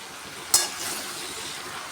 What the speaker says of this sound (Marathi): चिरलेली भेंडी भेंडी सर्व सोडली मी याच्यामध्ये आता परतून घेते